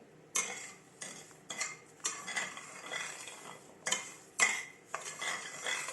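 A spoon scrapes and clinks against a metal pan as semolina halwa is stirred with sugar. The strokes come in an uneven rhythm, close by and fairly quiet, with a faint sizzle beneath.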